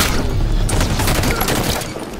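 A grenade explodes in Halo 5 gameplay during a fight at a garage, a loud booming blast inside a dense din of gunfire and rumble that stays heavy throughout.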